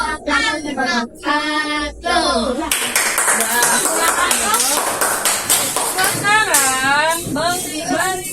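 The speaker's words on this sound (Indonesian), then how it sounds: "tepuk tangan untuk yang sudah maju. Tepuk tangan." A classroom of children claps for classmates who presented, the clapping mixed with lively young voices and shouting, close and loud throughout.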